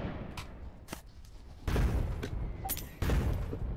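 Naval guns on gunboats in a video game fire in a ragged volley of booming shots, several overlapping blasts with heavier thumps near the end.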